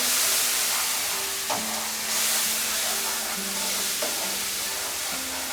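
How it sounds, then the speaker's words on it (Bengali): Spiced paste for a Bengali potol (pointed gourd) niramish dish sizzles steadily in a pan, with a few scraping stirs of a spatula cutting through the broad hiss; no talking. "মশলাটাকে একটু কষিয়ে নিচ্ছি।"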